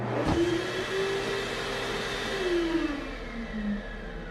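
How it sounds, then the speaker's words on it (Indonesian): A hand dryer runs in a restroom with a steady, loud blowing whir, a brief thump near the start and a faint tone that slowly shifts in pitch, with no voices. "terdengar suara pengering tangan yang sedang ngahieng"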